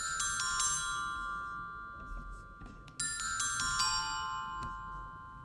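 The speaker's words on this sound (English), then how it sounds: "And the glockenspiel on its own" A glockenspiel plays alone in a music production, with bright, ringing struck notes in a sparse melodic pattern that sustain and overlap over a soft, low background bed.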